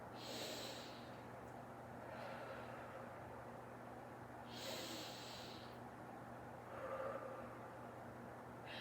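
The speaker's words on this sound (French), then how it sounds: "2 bonnes respirations." Two deep breaths taken during a gentle warm-up exercise, each a slow airy hiss of breathing in, faint and close against a low steady hum, with a softer exhale later.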